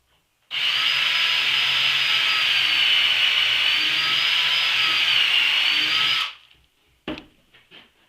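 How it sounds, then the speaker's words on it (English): A power drill with a step drill bit whines steadily at high pitch for several seconds while drilling a hole, then stops abruptly, followed by a few short clatters and scrapes nearby. "The step drill bit set, and I just want to drill a hole here"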